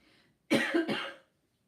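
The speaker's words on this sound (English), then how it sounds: "I am getting over this cough." A single harsh cough, close and loud, breaking into two quick bursts, then silence.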